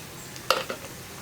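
A pickle mixture of raisins fries in a pan as turmeric powder is stirred in, producing a brief scrape and clink of stirring over a faint sizzle.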